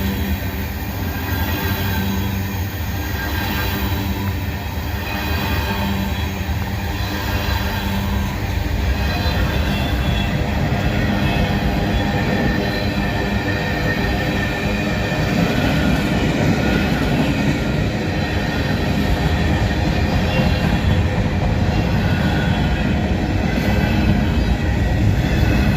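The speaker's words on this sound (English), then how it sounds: "we got some manifest train" A long manifest freight train rumbles steadily past close by in Abbeville, wheels clattering and squealing over the rails, with no voices.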